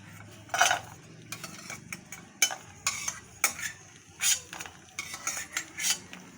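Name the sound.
fried cashews taken out of the pan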